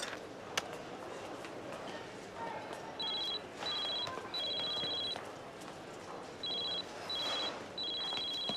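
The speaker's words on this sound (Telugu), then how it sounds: "ఫోన్ రింగ్ అవుతోంది." A telephone rings in repeated bursts of an electronic trill, each lasting about half a second to a second with short gaps between them, moderately loud over a quiet indoor background.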